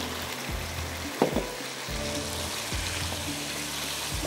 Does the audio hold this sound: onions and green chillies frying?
yes